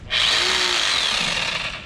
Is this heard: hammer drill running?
yes